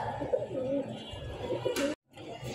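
Soft cooing of a female pigeon in low repeated phrases, close by, with a brief cut to silence near the end before faint background returns.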